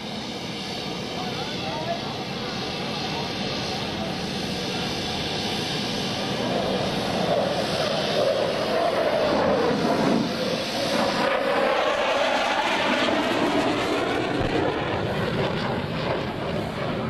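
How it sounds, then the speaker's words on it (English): F-14 Tomcat jet fighter of Fighter Squadron 213 flying at the NAS Oceana airshow, a broad distant roar that swells and sweeps past, with a loudspeaker voice faintly under it. "Tomcat of Fighter Squadron 213."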